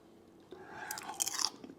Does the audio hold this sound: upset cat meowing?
no